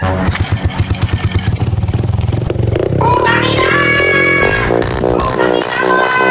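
A motorcycle engine idles with a steady putter, then revs up into a louder, sustained drone, close to the listener.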